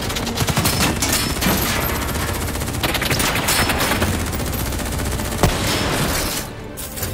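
Sustained automatic gunfire in the shooter game Call of Duty Black Ops 3, a dense, loud, continuous stream of rapid shots with occasional sharper cracks during a firefight in darkness.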